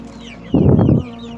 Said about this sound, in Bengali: এই দেখেন টাইগার মুরগিগুলো, এগুলো আজকে বয়স কতদিন, 1 মাস হবে।